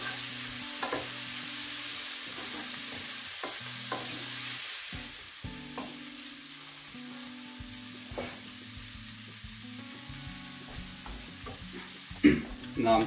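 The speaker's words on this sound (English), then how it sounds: "Now straight away I'm putting prawns in there." Prawns frying in a pan while being stirred, with a steady hiss of sizzling oil broken by repeated scrapes and clinks of the utensil, and a couple of louder knocks near the end.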